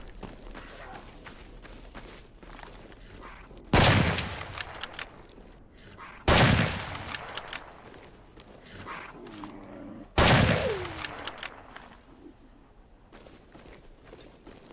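Three loud, sharp hunting rifle shots ring out in Stalker Anomaly, spaced a few seconds apart, each followed by a decaying echo and faint mechanical handling sounds between shots.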